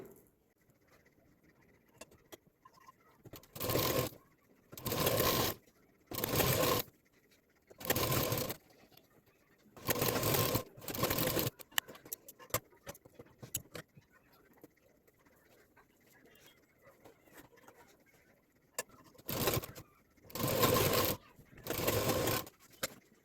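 A domestic sewing machine stitches lace onto a handmade potli bag in repeated bursts of fast whirring, several short runs separated by quiet pauses.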